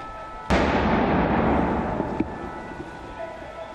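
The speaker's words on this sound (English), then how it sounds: "For several hours, the sound of gunfire could be heard" A single sharp gunshot cracks out during the Paris attacks and rolls into a long, echoing rumble, followed by a fainter distant pop.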